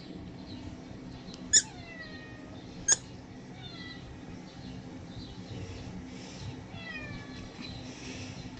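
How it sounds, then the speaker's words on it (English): Recorded white cat meows, several rising-falling calls spread over the stretch, moderately loud over a steady low room hum, with two sharp clicks early on. "Next one we have is white cat meowing."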